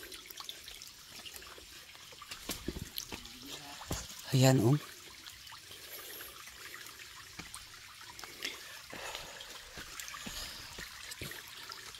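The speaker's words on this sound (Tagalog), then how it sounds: "Ito yung Sapa, guys." Clear creek water trickles and flows softly and steadily nearby, with a person talking intermittently and a louder brief splash partway through.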